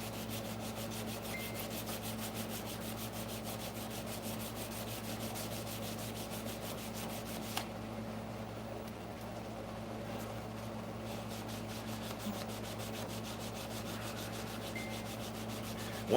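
Sandpaper rubbed by hand along a narrow steel blade about 1.25 to 1.5 inches wide while making a punch set, a steady continuous scratchy rasp with an even rhythm, close up and alone.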